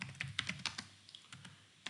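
A message is typed on a computer keyboard in a quiet room: soft, close key clicks in irregular quick bursts, then a brief pause and a few final taps, with no voices.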